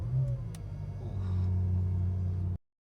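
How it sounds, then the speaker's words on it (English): 2018 BMW M5 engine firing up with a brief starter sound, then a deep, steady idle rumble close by that settles before cutting off abruptly. "Let's just start the car."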